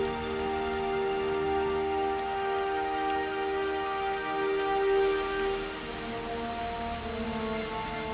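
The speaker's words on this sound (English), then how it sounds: "This nourishing rain quenches the desert's deepest thirst." Winter rain falls steadily over the Death Valley desert, a constant soft patter that stays even throughout under a faint sustained tone.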